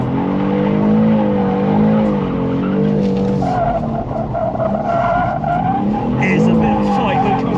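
A 600hp BMW G87 M2 drifts at Santa Pod, its engine droning and rising while the tyres squeal and skid in long sweeps, with people talking inside the car over the noise.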